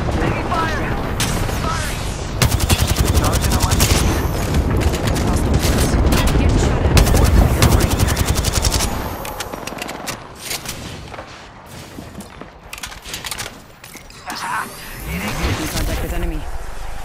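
Sustained gunfire in the video game Apex Legends, a loud dense stream of rapid shots with booms and mechanical clatter, thinning out partway through into scattered bursts, with voices heard in between.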